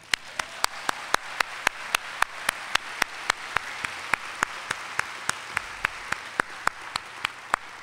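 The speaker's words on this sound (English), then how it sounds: "I had the impression that there was going to be some applause for her, and I squelched it, so let's hear it" Audience applause at a Duke environment and society lecture, a steady wash of many hands clapping through the whole span, moderately loud and even, with sharp individual claps standing out above the crowd.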